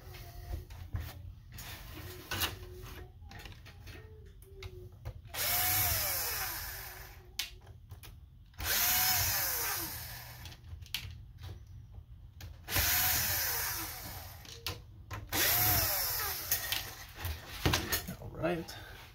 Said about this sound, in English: we got some screws here on the bottom that we gotta take off there